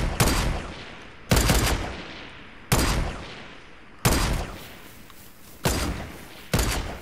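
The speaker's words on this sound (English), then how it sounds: "he's shooting" Heavy gunfire in the battle royale game Fortnite: six loud, booming shots spaced roughly a second apart, each with a sharp crack and a long decaying echo, with no talking over them.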